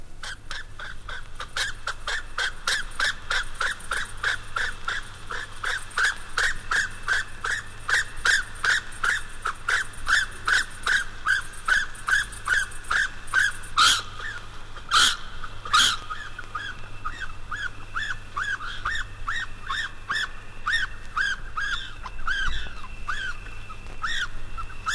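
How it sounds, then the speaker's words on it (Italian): Rapid, repeated squeaky chirping calls from a dormouse, continuing steadily for a long stretch with a few sharp clicks partway through. "Il ghiro dorme, come vuole il proverbio, ma quando è sveglio ha una voce anche lui"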